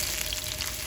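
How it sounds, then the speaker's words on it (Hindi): Oil sizzles and fries steadily in a pan while beef nihari cooks, a short, even crackle close by with no voices over it. "ज़्यादा फ्राई नहीं करेंगे, थोड़ा सा फ्राई करेंगे"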